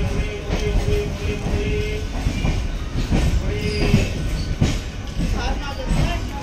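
Train at a station, a continuous rumble of railcars with faint wheel clatter and brief squeals, close and steady, while people talk nearby.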